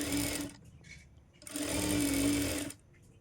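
A sewing machine stitches the folded hem of a blouse sleeve in two bursts, a rapid, close mechanical whir of needle strokes running about half a second and then over a second, separated by a quiet pause.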